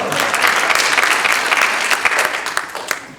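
A crowd claps loudly and close for a piano player, a dense, fast run of many hands that peaks early and tapers off toward the end without any talking over it.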